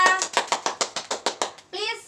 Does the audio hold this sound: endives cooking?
no